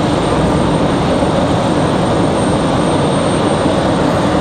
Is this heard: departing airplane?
yes